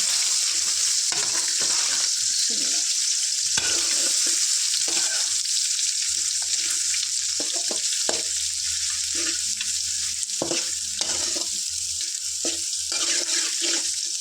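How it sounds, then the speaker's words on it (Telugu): Eggs seasoned with salt frying in a pan for egg lemon rice, a loud, dense, continuous sizzle with bursts of crackling and intermittent stirring, close by and without talk. "ఫోర్ ఎగ్స్ సరిపోయేంత ఎగ్ సాల్ట్ వేసుకొని దీన్ని ఇలా ఫ్రై చేసుకుందాం"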